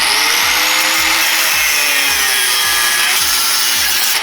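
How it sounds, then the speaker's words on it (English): A power tool grinds out a stuck coilover bolt on a Honda Fit, a loud continuous harsh grinding with a regular pulsing rhythm, heard close with no talk. "we're gonna have to grind the bolt out"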